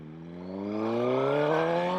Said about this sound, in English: That first to second gear quick shift is just so satisfying.